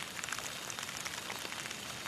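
Steady rain falling outdoors around a camp stove setup, a dense even hiss of drops pattering on surfaces, close and continuous with no pauses.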